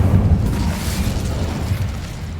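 The Incendio fire spell blasts in the Hogwarts Legacy video game, a deep booming burst with a rumbling fiery roar that holds loud and steady, then slowly fades, with no voices.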